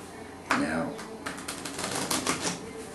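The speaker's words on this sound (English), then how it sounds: "We're going to shuffle them together like that." A deck of playing cards is riffle shuffled close by, a sharp ripple of card flicks followed by a burst of rapid fluttering clicks, with no speech over it.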